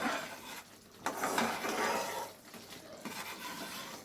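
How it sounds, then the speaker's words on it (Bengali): A utensil steadily stirs creamy tilapia curry in a pan, scraping and sloshing in uneven strokes close by with a soft sizzle underneath, and no voices. "এটাকে ভালো করে নেড়ে নিতে হবে।"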